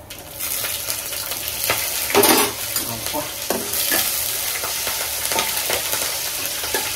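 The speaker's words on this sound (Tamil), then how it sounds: "தலைவன் கடலப்பயிர் பொரிஞ்சிட்டு இருக்கும்போதே" Legumes fry in hot oil while being stirred, making a continuous near sizzle broken by scraping strokes and a brief louder burst of spattering.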